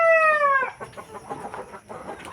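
Dekalb Brown free-range backyard hens give a loud rising crow-like call at the start, then low scattered clucking and farmyard rustle continue nearby.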